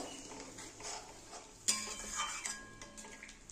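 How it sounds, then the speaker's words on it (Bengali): Fish-head curry masala being stirred in a pot after water is added, for a katla fish-head muri ghonto: scraping utensil-on-pot clinks and stirring, with a sharper metallic knock midway, fairly quiet and close, no talk. "এবার আমি একটু জল দিয়ে দেবো। একটু নেড়ে দেবো।"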